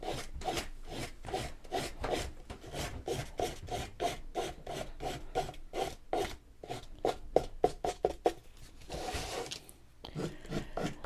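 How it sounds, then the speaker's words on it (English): Nail file rasping back and forth along the edge of a paper piece for a mixed media morning glory project, in quick, steady rhythmic strokes, close and fairly loud with no talking. "I like doing it with this little nail file because it gives you a nice smooth edge"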